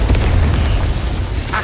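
Confringo blasting spell from Hogwarts Legacy detonates with a loud, booming burst of low rumble and crackle that sustains across the short moment without any voices.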